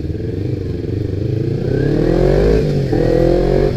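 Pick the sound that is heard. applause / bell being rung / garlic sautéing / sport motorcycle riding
sport motorcycle riding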